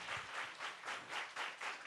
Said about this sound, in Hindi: जोरदार तालियां अली हुसैन के लिए